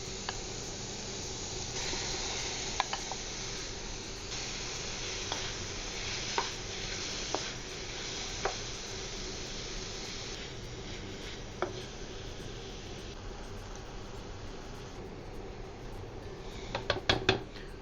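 Ground beef sizzles with onion and garlic in a pan, a steady close frying hiss with occasional light clinks of a utensil stirring against the pan.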